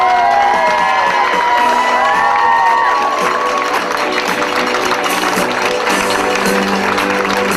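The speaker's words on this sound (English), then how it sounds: "Make some noise for Mark and Dawn" Guests at a wedding reception cheer and whoop for the couple Mark and Dawn, a loud, sustained crowd roar with shouts and some clapping running the whole time.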